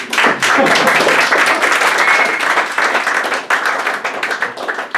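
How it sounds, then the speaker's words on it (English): A poetry reading audience applauds steadily for several seconds, a dense wash of clapping that stays loud throughout and tapers slightly at the end. "Let's all clap."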